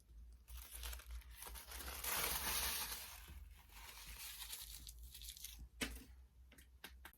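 Protective film ripped off the screen of a new 13-inch MacBook Pro 2020, a close, sustained crinkling and tearing rustle lasting several seconds, ending in a few sharp crackles.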